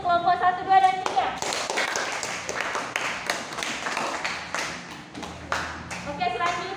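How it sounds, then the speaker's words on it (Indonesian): Students in a classroom clap for discussion groups after a lesson, with scattered sharp claps and taps. Voices are heard briefly at the start and end. "Kita beri tepuk tangan dulu untuk kelompok 1, 2, dan 3."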